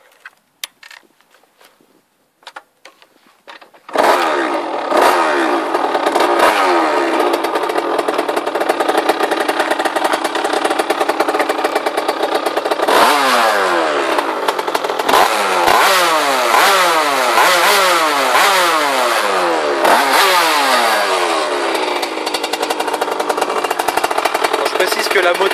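Derbi Senda 70 motorcycle fitted with a Conti exhaust, engine warm, revving hard repeatedly after a few seconds of quiet, loud and close, with rising and falling sweeps of the two-stroke engine over a steady idle.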